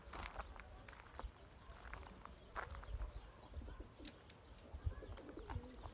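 Pigeons in a loft coo softly in short low calls amid faint shuffling and fluttering, with someone talking quietly nearby.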